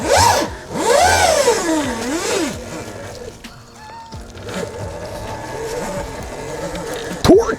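A 13 kW, 84 V electric dirt bike pulls away, its motor whine sweeping up and down in loud arcs, then settling into a steadier hum with wind noise and a rider's voice.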